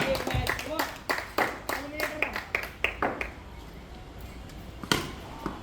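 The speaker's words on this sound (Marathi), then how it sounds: "टाळ्या वाजवानी सर्वांनी" A series of sharp claps from a crowd at the start of a cricket match, irregular and fairly close, with a voice talking over them and a final louder clap after a pause.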